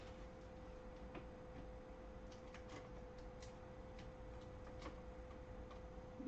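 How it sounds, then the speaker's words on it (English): A paper card fed through an embossing machine with an embossing folder, giving a steady run of faint, quiet ticking and clicking under a constant low hum. "We're going to run that through my new favorite embossing folder."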